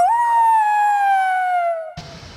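A single long, loud dog howl, sustained and slowly falling in pitch, ending abruptly as a rougher noisy sound cuts in, heard along the Bergen–Voss road in Norway.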